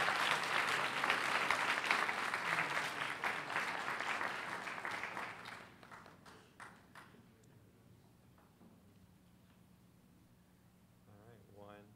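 A school board meeting audience gives loud, full applause for students, which tapers off after about six seconds into a quieter room with scattered claps, light shuffling and faint murmuring.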